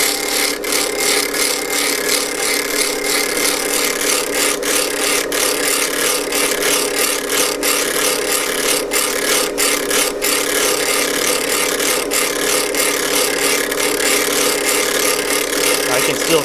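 Steady abrasive rasping of a Woodriver block plane blade edge being ground, continuous and close with faint scratchy strokes throughout and no break.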